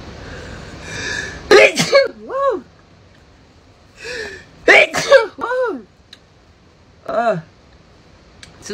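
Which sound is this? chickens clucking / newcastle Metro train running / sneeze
sneeze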